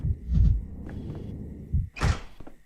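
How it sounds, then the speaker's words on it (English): A bell dropped in the video game Pathologic 3 lands with a heavy metallic clunk and ring after some low thumping and shuffling, loud and close, then fades. "Drop that bell."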